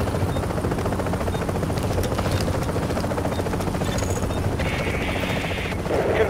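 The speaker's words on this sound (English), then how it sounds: "Chopper is inbound." A helicopter arrives in the video game Tom Clancy's The Division, its rotor thumping in a steady, loud beat with engine whine and a few brief game sound effects layered on top.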